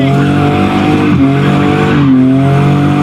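A car with a limited-slip differential driven hard, engine droning loud and steady throughout as tires squeal in rising and falling whines across the pass, close up with no talk.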